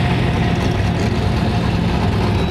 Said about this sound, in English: we got this Nova pulling up